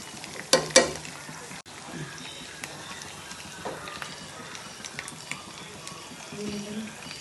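Fried chicken masala for chicken peri peri mandi sizzles quietly in a pan as it is stirred, with a couple of sharp clanks at the start and soft scraping afterward.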